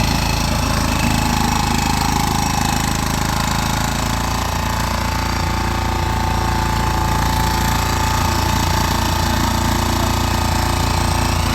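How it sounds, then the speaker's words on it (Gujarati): A fodder grass cutting machine runs in a farm field, its engine pounding in a loud, continuous rapid chatter close by, steady throughout with no voices. "તો મિત્રો આ છે ચારવાડવાનું મશીન."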